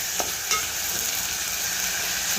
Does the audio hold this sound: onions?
yes